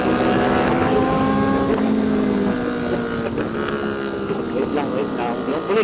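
A motorcycle engine drones nearby on an uphill road, its pitch shifting as it passes and fades, with people talking over it.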